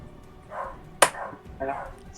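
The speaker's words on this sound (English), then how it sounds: "Harold's barking at the TV." Indoors, a dog barks at a television, giving three short barks in quick succession with a sharp middle one.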